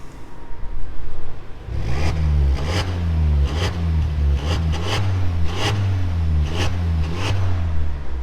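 A SEAT Leon 1.4 with a downpipe and remote-controlled valve exhaust idles in quiet mode with a low, subdued exhaust rumble, punctuated by a series of soft, regular bursts.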